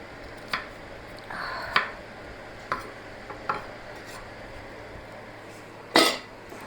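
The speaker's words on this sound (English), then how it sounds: "so I'm dicing up my pepper" Red and yellow peppers being diced on a cutting board, a sparse series of close knife taps and chops at uneven intervals over a steady background hiss, with one louder chop near the end.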